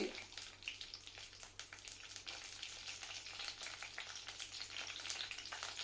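Green chillies fry in hot oil in a pan for a Nellore-style brinjal and okra chutney, giving a steady, close crackling sizzle. It runs for several seconds with no talking.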